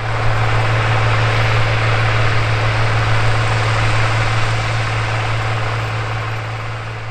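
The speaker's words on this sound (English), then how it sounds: "It's powered by a Caterpillar 3208 V8 engine and is rated at 210 engine horsepower." Steady, loud low rumble of a tractor's Caterpillar 3208 V8 diesel engine rated at 210 horsepower, running continuously on a North Dakota farm during corn planting work, with a constant droning hum and no voices.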